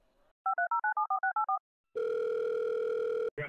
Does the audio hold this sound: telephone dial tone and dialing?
yes